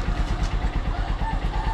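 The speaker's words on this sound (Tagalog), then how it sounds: "So ganun lang kadali mga idol yung pagpapaandar ng Honda Supremo, lalong-lalo na pag umaga." A Honda Supremo motorcycle engine runs after a morning start, its rapid even single-cylinder putter steady and close for a brief moment.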